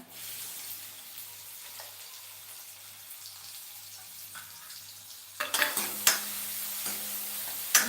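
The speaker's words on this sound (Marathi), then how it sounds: "थोडासा परतून घ्यायचा सुरुवातीला" Chopped onion being sautéed in a pan for Punjabi-style dal tadka: a faint, low hum at first, then a louder close sizzle with stirring clatters in the last few seconds, no talking.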